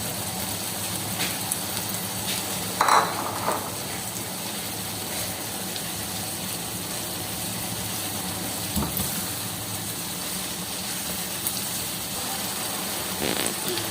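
A village-style curry of potatoes, carrots, fenugreek and chicken gizzard stir-frying in a pot, giving a steady, dense sizzle that runs unbroken throughout, with a few brief clatters.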